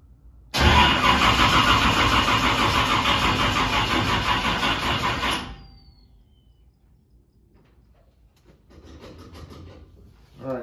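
A 1967 496 stroker V8 cranks and catches, running loud and steady at close range for about five seconds before being shut off, followed by quiet with faint rustling.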